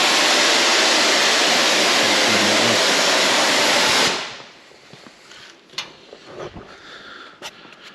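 An air dryer on a body shop's compressed-air line hisses in a loud, steady, broadband rush for about four seconds, then cuts off, leaving faint clicks and shop noises.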